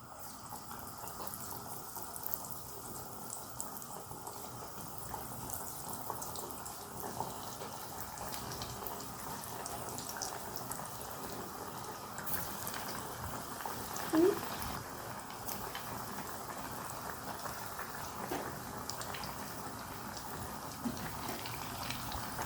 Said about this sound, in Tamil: இப்போ நான் எண்ணெயில் போட்டு பொரிச்செடுக்க போகிறேன்.